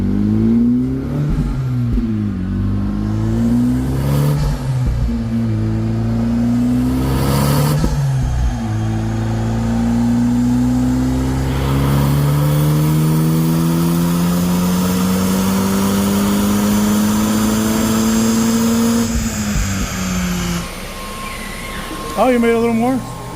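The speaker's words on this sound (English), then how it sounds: "Let me hear the exhaust over here on this one." A Honda FL5 Civic Type R with power mods on a dyno revs hard, its exhaust droning loudly and rising in pitch through long sustained pulls, then dropping back to idle near the end.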